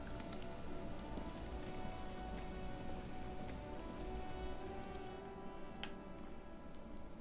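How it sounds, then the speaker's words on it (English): Steady rain falls in the Disco Elysium video game, a dense close patter on a surface with a few sharper drops standing out. "But the rain is coming in."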